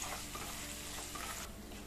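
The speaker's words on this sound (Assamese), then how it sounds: "এই গোটেইখিনি মচলাই ভালদৰে ভাজি লওঁ" Green chilies, peanuts and cashews fry in a pan, a steady faint sizzle with soft stirring, heard alone with no voices.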